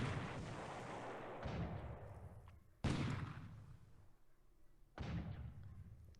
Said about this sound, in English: Those 150 millimeter coastal guns are tearing up these AKs.